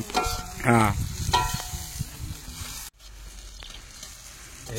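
Chicken frying in a pan gives off a low, steady crackle and sizzle. Louder bursts of stirring and scraping come in the first half, then the sound settles into a quieter continuous hiss.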